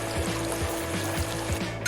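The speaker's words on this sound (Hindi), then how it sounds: "चलो थोड़ा और पानी ले। इसका बहाव बहुत तेज है।" Water pours steadily from a kitchen gadget with a continuous rushing trickle, and soft rhythmic thumps repeat under the flow.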